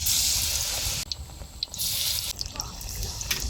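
Batter-coated eggplant pieces fry in hot oil with a loud, bright hiss that cuts off sharply and then surges back, broken by small clicks and splashes, all heard close up.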